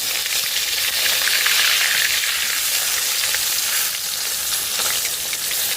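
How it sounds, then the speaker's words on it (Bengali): Bata fish frying crisply in a pan, a loud, steady hissing sizzle close up with faint crackles swelling slightly at times, no voices. "তো মাছটা একটু মশমশা করেই ভাজবে"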